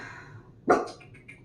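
A household dog lets out a single sharp bark indoors, close and loud after a quiet moment, trailing off into a few fainter yips or whimpers.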